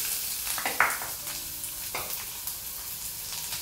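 Onions frying in a pan with mustard seeds, split black gram and curry leaves, a steady soft sizzle with a few stirring scrapes and clinks, moderately quiet and alone.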